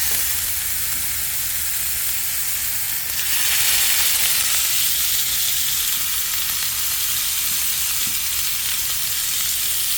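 Three pieces of fish fry in oil on low heat, a continuous close sizzle that swells noticeably partway through and then holds steady and loud.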